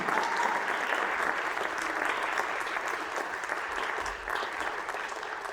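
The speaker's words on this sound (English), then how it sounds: "going to give one more round of applause to all of our great musicians tonight" A high school fall concert audience gives sustained, full applause for the jazz ensembles and concert bands. The clapping holds a steady crowd wash, slightly distant, throughout.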